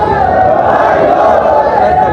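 A dense crowd at a palkhi temple celebration in Navi Mumbai fills the air with loud, close overlapping voices and chanting-like shouts, sustained throughout.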